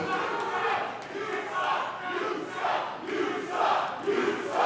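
A crowd at the historic El Rey theatre in New Mexico chants and cheers in rhythmic surges, swelling roughly once a second, loud and close.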